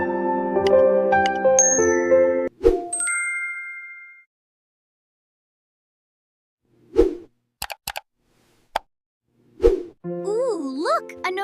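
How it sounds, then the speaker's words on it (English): A bright ding-like notification chime sounds among short plops and clinks, between stretches of music and cartoonish sound effects in a beginner English story about school friendship. "look, a notification"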